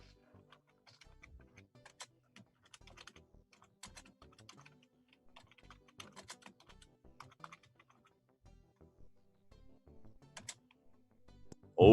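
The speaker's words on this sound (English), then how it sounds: "Whole lot of typing." A computer keyboard is typed on steadily for a long stretch, with faint, close clicks in an uneven rhythm and no voices.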